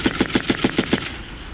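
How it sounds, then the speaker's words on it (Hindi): A rapid burst of automatic gunfire from Ukrainian soldiers in combat, about seven loud close shots in an even quick rhythm, then stopping, with no talk. "वीडियो में ताबड़तोड़ गोलियां बरसाते दिखे यूक्रेन के जवान।"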